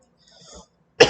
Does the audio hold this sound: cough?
yes